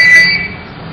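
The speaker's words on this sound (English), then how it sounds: "If latching alarms are activated, press the green check mark to clear the alarm." A Honeywell portable gas detector sounds a brief, loud electronic alarm tone, a sharp high-pitched beep that cuts off quickly and leaves a faint room hum, with no voices.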